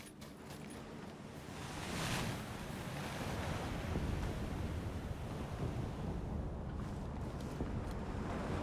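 A steady rush of river water in PlayerUnknown's Battlegrounds (PUBG) fills the scene, fairly loud and continuous, with a wind-like hiss over it.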